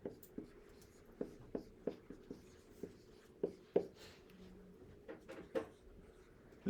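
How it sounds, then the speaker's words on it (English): Marker or chalk strokes on a board during an algebra factoring lesson, a steady series of short scratchy taps and scrapes close by, with no talking. "We write down the 7x squared."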